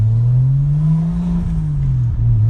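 A Toyota Supra converted from automatic to manual transmission, its engine droning loud and close from inside the car while driving, the low hum swelling and easing slightly as revs rise and fall.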